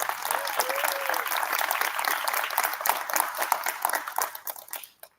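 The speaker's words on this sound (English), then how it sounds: "Please join me in thanking them with a round of applause." Sustained applause from an audience at a 2024 National Junior Honor Society induction ceremony at Aspire Charter Academy, dense and steady clapping from many hands that tapers off and stops near the end.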